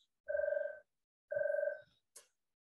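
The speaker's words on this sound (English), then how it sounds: "Of course, my house phone wants to ring." A house telephone rings twice in steady electronic bursts, each about half a second, fairly close and clear, followed by a short click, with no talk over it.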